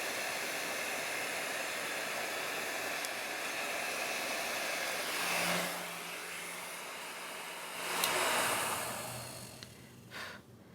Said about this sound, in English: so when you use the heat gun, keep an eye, you don't want the insulation to melt